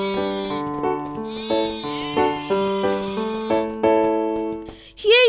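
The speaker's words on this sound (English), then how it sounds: "I'm coming towards you with my remaining 3 sheep" Sheep bleats from a children's cartoon about counting sheep, heard as a string of clear, tuneful, wavering cries in a stepped rhythm, loud and close, with no talk.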